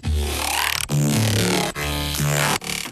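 A dubstep synth tone runs through a comb filter with its resonance raised, giving a bright, ringing, tonal buzz in four loud sustained phrases split by short sharp breaks, with no voices.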